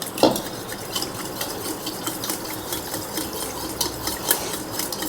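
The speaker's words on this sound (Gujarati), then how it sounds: "હવે આને આપણે વિસ્કરથી મિક્સ કરીશું" A whisk beats a mixture of arrowroot powder and half a teaspoon of cardamom for a chilled fasting dessert, giving a steady, busy scraping and swishing with small clicks against the bowl, close and continuous, with no talking.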